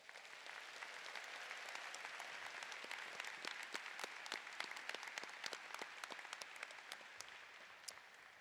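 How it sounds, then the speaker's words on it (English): Sustained applause fills a graduation ceremony hall as the crowd honors teachers and staff, a dense steady wash of clapping with sharper individual claps standing out throughout, moderately distant. "give our teachers and staff that are here tonight a round of applause"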